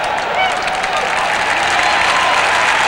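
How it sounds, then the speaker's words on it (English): A crowd of lacrosse fans applauds at a 1991 Syracuse versus Michigan State men's Division I quarterfinal, a dense, sustained wash of clapping throughout. "the fans are applauding for the nice job"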